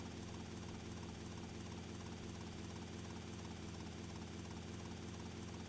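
Helicopter flight in the video game GTA Vice City Definitive Edition, with a steady, continuous rotor and engine drone that stays level and fairly quiet throughout, with no voices over it.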